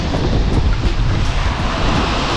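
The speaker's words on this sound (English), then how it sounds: "Wind's picking up, looking good." Strong wind roars steadily over the sea during wing foiling, buffeting the microphone with dense, loud rushing noise and the wash of surf beneath it.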